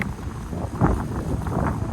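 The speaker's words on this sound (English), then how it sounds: "It's pretty windy." Outdoor wind buffets the microphone beside a small DIY mini greenhouse in winter, making a continuous low rumble with soft gusty swells and no clear talk.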